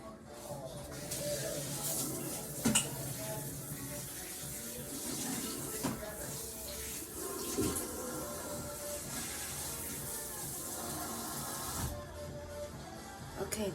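Tap water runs steadily as cut vegetables for chicken soup get rinsed under it, with a continuous close splashing broken by a few brief louder clatters and gushes.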